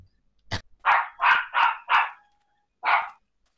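A Minecraft dog barks five times in a quick run, then pauses and gives one more bark, each loud, close and clipped, with silence between.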